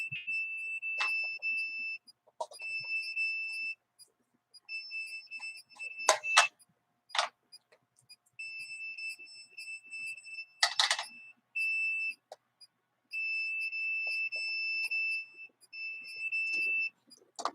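An electronic alarm close by sounds repeated bursts of shrill two-tone beeping in regular on-off cycles, with short gaps and a few sharp clicks and knocks between the bursts, and no talk.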